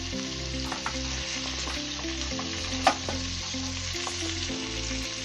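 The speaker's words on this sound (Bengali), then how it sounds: "এখন আমি একে আমাদের পায়াগুলো দিয়ে ভালোভাবে ভেজে, যাতে ঘিয়ের স্মেলটা ভিতরে খুব ভালোভাবে চলে যায়।" Goat trotters fry in ghee with chopped garlic and ginger, a continuous close sizzle with stirring scrapes and a sharp utensil knock midway, no voices.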